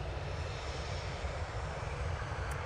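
A TUI jet airliner lined up on the runway at Manchester Airport, engines producing a constant heavy rumble and hiss, steady and fairly close, with no talking over it.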